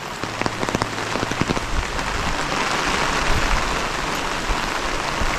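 Steady rain pours down during metal roofing installation, hissing and pattering densely on a hard surface, with a few sharper drops standing out early on.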